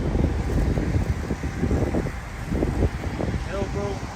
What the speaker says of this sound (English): Of course, it gotta be windy too right now.